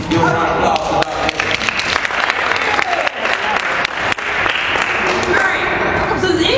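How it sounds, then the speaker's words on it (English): A round of applause bursts out at a classroom science demonstration right after a countdown. Steady, dense clapping rings close and loud throughout, with scattered voices and cheers mixed in. "Give a round of applause for that."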